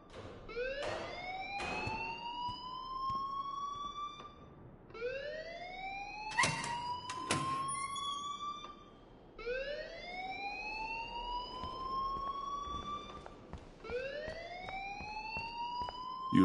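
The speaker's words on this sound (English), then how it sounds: "please turn off that alarm since that's your job" A repeating electronic alarm blares inside the Life is Strange video game, each loud rising whoop sweeping upward and repeating in a steady cycle roughly every two and a half seconds, with sharp clacks scattered between the wails.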